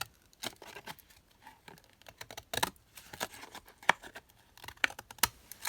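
Scissors snip through paper in sparse, sharp clicks and rustles, close by and quiet, with gaps between cuts.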